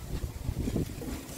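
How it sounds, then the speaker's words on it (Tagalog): Strong wind buffets the microphone in low, gusty rushes on a third-floor rooftop garden, loud and close with no other sounds. "Ang napakalakas ng hangin."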